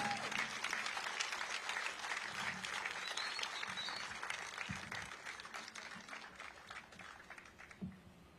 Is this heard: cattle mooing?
no